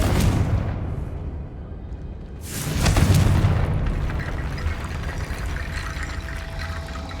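A Confringo fire spell explodes in Hogwarts Legacy with a loud booming blast at the start, then a second rushing burst that swells and slowly fades into a crackling rumble.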